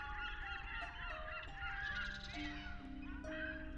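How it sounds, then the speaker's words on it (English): Honking seagull calls overlap in a steady, distant chorus, faint and continuous, with no voices. "Hear the sound of the seagulls in the distance."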